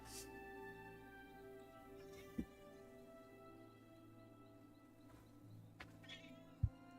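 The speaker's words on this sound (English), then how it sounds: "I have a cat meowing at me." A pet cat gives a few faint, brief meows against steady game music and low background hum, with long quiet stretches between calls and no speech.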